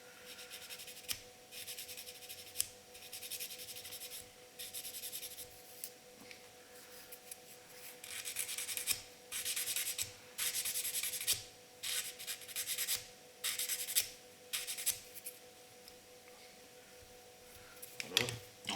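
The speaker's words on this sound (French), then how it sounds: "Poncer ce qui dépasse." Sanding excess plastic off a 1/24 scale Toyota Supra model kit, repeated short rasping strokes in bursts, close and fairly quiet over a faint steady hum.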